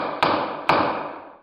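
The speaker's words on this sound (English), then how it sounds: "This is the sound of a gavel." A wooden gavel banged twice, two loud, close, sharp knocks about half a second apart, each followed by a ringing, resonant decay.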